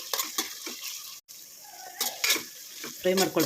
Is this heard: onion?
yes